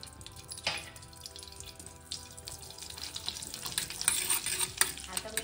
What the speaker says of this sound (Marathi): आता आपलं तेल आणि बटर गरम झाल्यावर आपला जिरं टाकायचं आहे।